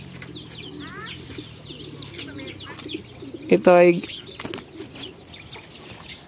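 Soft pigeon cooing and chirps under someone talking, with a short burst of loud wing flapping in the middle from a blue bar pigeon.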